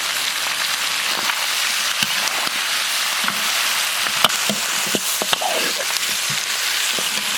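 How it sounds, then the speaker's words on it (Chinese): Green and red chili peppers, onion, dried greens, tofu and potato slices stir-fry with beef hooves in a hot wok, a steady loud sizzle with scattered clicks and scrapes of the spatula. "炒一圈下入青红辣子、洋葱、青菜干、豆腐、洋芋片"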